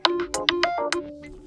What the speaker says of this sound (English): select one of those system ringtones, like funk